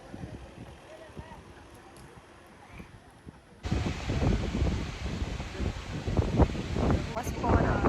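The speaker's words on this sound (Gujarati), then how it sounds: "મસ્ત પવન આવે." Gusty wind blows by Fateh Sagar Lake in Udaipur, rising suddenly into a loud, steady roar buffeting the microphone partway through, while people talk nearby.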